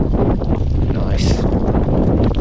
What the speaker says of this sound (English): The wind is blowing at 60 kilometers per hour